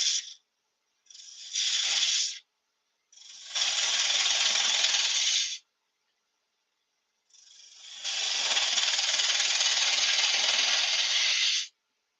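A spindle gouge cuts into wood spinning on a lathe, producing bursts of bright hissing shear that start, stop and resume in separate passes, the last one long and steady, close with no talk.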